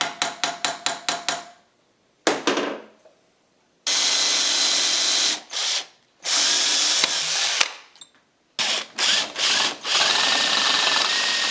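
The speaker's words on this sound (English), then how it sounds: "Now I'll just drill both the top and bottom holes" A power drill boring holes in an intercooler part for a 1976 Mazda RX-5 Cosmo restoration: rapid trigger pulses, then several long loud drilling runs with brief pauses between them, close and harsh.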